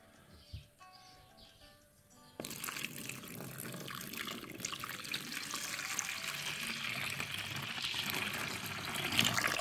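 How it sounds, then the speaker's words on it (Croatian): One litre of water pours steadily into a sugar and yeast mixture for a tomato-feeding solution, a continuous close rushing splash that starts abruptly after a quiet opening and holds at an even level. "ovo ćemo sve preliti sa 1 litar vode i dobro izmiješati"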